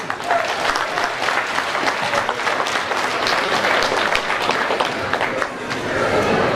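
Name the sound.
applause at awards banquet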